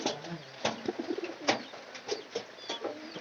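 Pigeons fighting in a loft, one breaking an egg, give bursts of sharp wing flaps and scuffling at close range amid soft cooing, in an irregular run of loud strikes.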